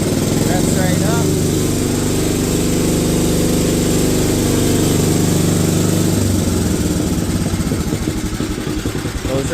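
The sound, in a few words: International Cub Cadet tractor engine returning to idle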